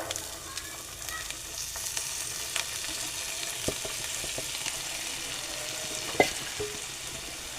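Roasted, cooked val beans tossed into softened onions in a pan give a steady, close sizzle with occasional scraping stir clicks and one sharper knock near the end, no voices.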